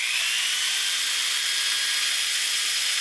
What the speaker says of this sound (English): I can hear my drill motor load down and slow down as I touch it to the wood